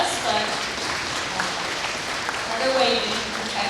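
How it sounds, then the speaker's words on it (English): Audience clapping at an elementary school breakfast ceremony, a moderate steady round of applause with voices and chatter mixed in over it. "A big round of applause for our food service people back there"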